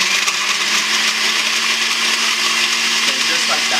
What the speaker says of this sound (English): we're going to put them in the blender like so, and then turn on the blender